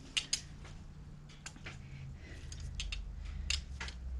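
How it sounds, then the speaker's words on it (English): A 50-year-old torque wrench tightening a muffler mount bolt on a 2022 Harley-Davidson Street Glide, giving a few quiet, crisp ratcheting clicks and creaks in irregular spurts over a low background hum. "This torque wrench, like I said, is 50 years old."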